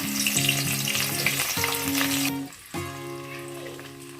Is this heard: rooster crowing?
no